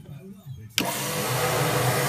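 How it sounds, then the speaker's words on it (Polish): A demo machine's main power switch is thrown, and after a quiet hum a sharp click gives way to a loud, steady whir of running machinery. "Włączenie, główne włączenie maszyny."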